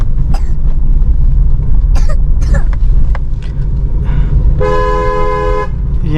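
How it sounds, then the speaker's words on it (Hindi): A car gives a long, steady horn honk on a narrow, steep hill road with a sharp turn, loud and close above constant road and engine noise, after some earlier knocks and bumps. "यहाँ पे भी लॉन्ग हॉर्न प्रेस करेंगे"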